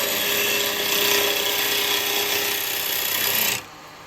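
Bowl gouge making a push cut on a spinning wooden bowl on a lathe, a continuous, loud hissing rasp of shavings that runs steadily for several seconds and then stops abruptly, leaving quiet lathe hum.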